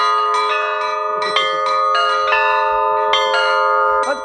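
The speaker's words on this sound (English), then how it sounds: "My ringing doesn't sound as harmonious as it should" Church bells in Suzdal, Russia, rung by an inexperienced ringer: several bells struck together in uneven, irregular clusters, each strike blooming into a loud, sustained metallic chord that lingers and overlaps the next, close and without voices.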